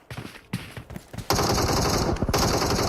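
Rapid automatic gunfire in a competitive Free Fire esports match starts with scattered shots, then becomes a dense, loud, continuous burst of shooting.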